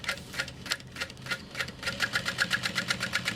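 A sewing machine topstitches through layers of a baby sling, running in a fast steady rhythm of needle clicks, briefly slowing and then continuing in even pulses close up.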